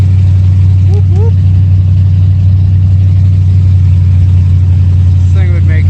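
Loud Lincoln car engine running steadily as it pulls through the gears, a constant low drone dominating throughout, with brief squeaky sounds and voices layered faintly above.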